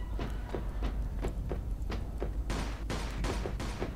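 Bursts of gunfire in the Mafia II video game, a run of sharp repeated shots at an irregular rhythm, growing denser and louder in the second half, with no talk over them.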